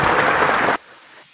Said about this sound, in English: let me go ahead and give you guys a fantastic round of applause